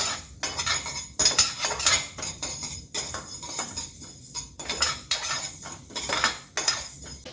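Fenugreek and mustard seeds dry-roasting in a pan over a low flame, stirred with a metal spoon that scrapes and clinks against the pan in steady, busy strokes, close by with no voices.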